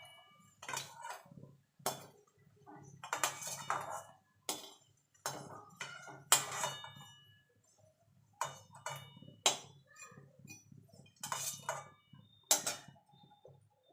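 Metal utensils clink and scrape against a pan while fried mustard flower fritters are lifted out, in irregular sharp taps and knocks with quiet gaps between them, no talking.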